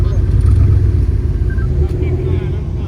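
Loud, close car engine rumble at an outdoor supercar breakfast meet, a Mercedes McLaren SLR idling or moving with a deep, continuous low drone and faint background noise.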